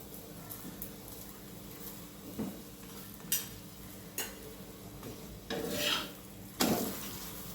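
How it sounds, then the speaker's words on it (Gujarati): Bajra bati roasting in ghee on a pan, heard as a soft, low sizzle with occasional light scrapes and taps of a utensil against the pan, faint and close. "સરસ ઘી લગાવીને શેકી લેવાની બાટીને"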